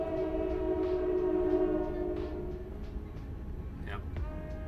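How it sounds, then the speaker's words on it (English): A real train rolls past nearby, its horn sounding in sustained tones early on, then clattering and rumbling with short sharp squeals, while someone talks over it. "That is a real train."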